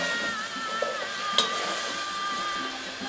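Marinade poured into a pan of frying onions for poulet yassa, a steady close sizzle with faint stirring and a couple of light clinks of utensil on pan.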